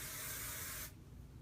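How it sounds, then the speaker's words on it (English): Hairspray hisses from an aerosol can onto hair in one close, steady burst that stops abruptly, followed by faint room noise. "I like to spray my hair before I curl it"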